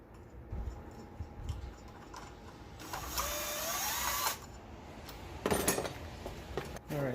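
Tightening the battery hold-down bolt on a Mitsubishi RVR with a ratcheting tool, heard as close metallic ticks and clicks in short bursts, including a steady run in the middle and another near the end.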